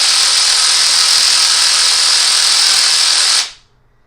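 A Theragun G2 Pro massage gun runs at a steady, loud, even buzzing drone with no change in speed, then is switched off and cuts out abruptly near the end.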